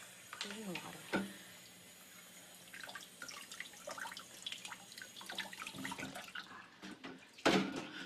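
Water running from a tap into a sink in a home, with splashing as an object is put into the stream, continuing under a conversation between people nearby.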